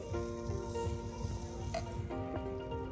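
Batter poured into a hot clay pan gives off a steady, close hiss of sizzling with a few light clinks, and no voices.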